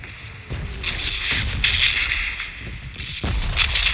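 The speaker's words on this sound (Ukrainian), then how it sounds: "Бомби з неба летять" Repeated heavy booms and blasts from bombs falling from the sky in a mobile game, several loud thumps with rumbling tails, some closer and sharper than others.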